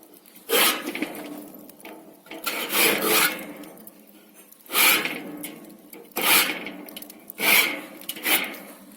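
A notched grill scraper rasps across barbecue grates in five or six firm, separate strokes, each a harsh close scraping burst with short pauses between.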